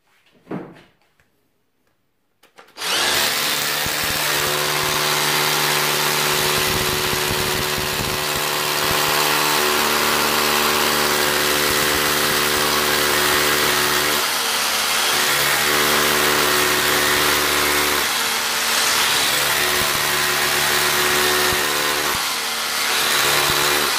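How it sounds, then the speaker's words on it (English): A loud, steady mechanical drone with a hard grinding edge from a Huepar 20V brushless cordless SDS-Plus rotary hammer drill boring into hard concrete starts after a few seconds of near silence and runs continuously, with small dips in intensity. "Then we hammer drilling"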